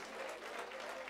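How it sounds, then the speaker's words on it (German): A concert crowd at a rock band's show claps in a brief, steady wash of applause, faint and distant throughout. "dein Applaus."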